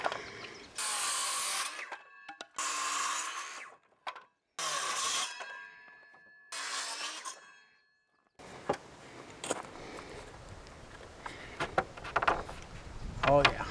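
A power tool cuts out wood for a self-closing garden gate in four loud, separate bursts, each a second or so long with short pauses between. Quieter handling noise and people talking follow.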